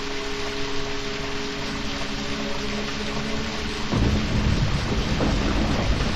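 Steady rain and rolling thunder in the Deadly Premonition video game form a dense, continuous wash with a low rumble, swelling louder partway through.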